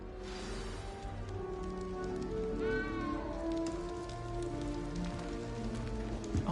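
Small cat meowing in Hogwarts Legacy, a few rising, drawn-out meows at moderate distance over a steady rain-like hiss and low background hum.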